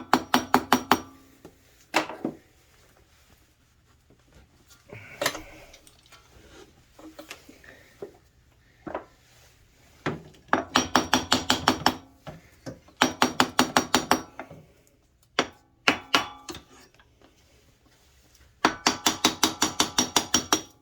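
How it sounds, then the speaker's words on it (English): Bursts of rapid metallic hammer taps on a 2006 Kawasaki 650 Brute Force ATV engine, sharp ringing strikes in quick runs separated by quieter pauses and scattered single knocks. "So I'm just going to give it a tap with a regular hammer."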